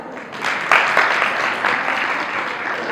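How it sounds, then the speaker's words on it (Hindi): Applause from an audience at a Jain muni's question-and-answer gathering in Lalitpur: a dense, steady patter of many hands that swells after a moment and stays strong, moderately near, with no speech over it. "जोरदार तालियां।"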